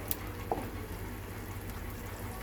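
Curry paste for a mushroom curry frying in hot oil in a pan, a soft steady sizzle with a couple of faint stirring taps, close and continuous.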